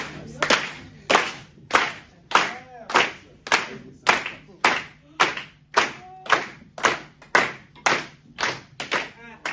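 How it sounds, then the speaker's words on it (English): Steady rhythmic clapping, roughly two claps per second, crisp and close, repeating evenly throughout with no talk over it. "May you please clap for him."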